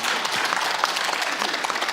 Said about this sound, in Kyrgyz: Кош, кол чабалар жаңырсын.